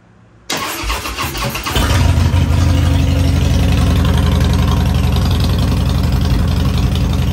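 A Harley-Davidson Softail motorcycle engine cranks with a starter whir, then catches and settles into a loud, steady, lumpy idle with a strong low rumble, recorded close to the bike with no air filter fitted.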